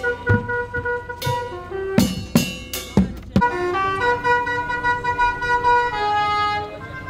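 A musical car horn on a Bwadjak carnival car in Martinique plays a short tune, a few sharp blasts followed by a sustained melodic sequence of tones, loud and close.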